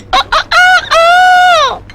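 A rooster crows loudly and close by, starting with two short clipped notes and then a long drawn-out cock-a-doodle-doo with no other sound around it.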